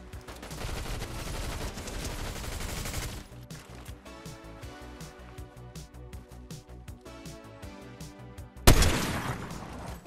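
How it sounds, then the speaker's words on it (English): Fortnite gunfire erupts in bursts: a loud rapid volley at first, then scattered shots under game music, and a final heavy close bang near the end. "I'm gonna go see what those shots are about."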